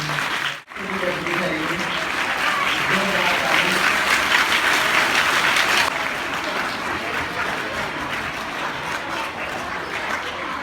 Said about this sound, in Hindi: आपकी तालियां मुसलसल